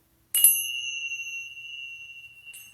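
A single small bell, like a bicycle bell, strikes once up close and rings out with a long sustained tone that slowly fades, followed by a faint second touch near the end.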